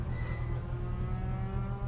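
Race cars in the RaceRoom racing game, played in VR, stream past one after another with a steady loud engine drone and overlapping harmonic whine, close and continuous without talk.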